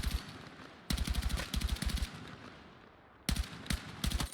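Short bursts of tap-fired gunshots in the video game Battlefield 6, sharp repeated cracks in several quick clusters separated by brief pauses, loud and close with no talking.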